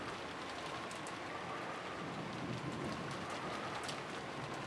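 Steady rain from the Umineko visual novel, a continuous soft hiss of falling rain at an even, moderate level throughout with no voices.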